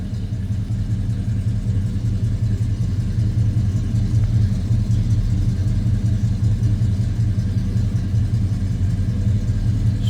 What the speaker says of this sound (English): This Flowmaster sounding pretty good.